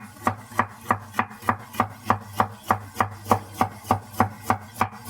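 A knife chops vegetables finely on a cutting board in a steady, even rhythm, about three crisp strikes per second, close and clear with no voices.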